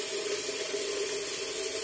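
A bathroom tap runs steadily while the water warms up. It makes a close, continuous hissing rush with no break.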